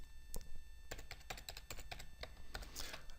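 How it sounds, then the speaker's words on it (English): A loud computer keyboard clacks up close in a quick, uneven run of keystrokes. "It's got a loud keyboard."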